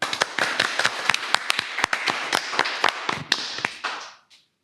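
A small group claps at the close of a Valentine's Day special podcast, sharp separate hand claps in an uneven rhythm, close and distinct, thinning out and fading to silence near the end.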